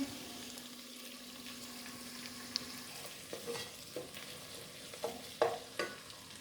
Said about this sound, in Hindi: प्याज को हम जो है वो फ्राई कर रहे हैं, बहुत ज़्यादा लाल नहीं करेंगे